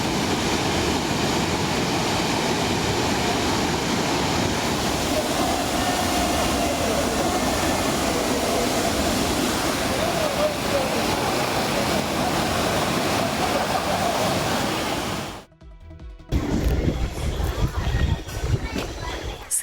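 Manimuthar waterfall at Ambai in Tirunelveli district roars as a steady, dense rush of falling water, loud and unbroken for about fifteen seconds before a brief cut, with a voice speaking over it.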